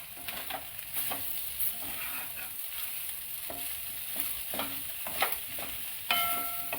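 Potato pieces for samosa filling sautéing in a pan, a steady sizzle broken by a spatula scraping and stirring at irregular moments, close and continuous, with no talking.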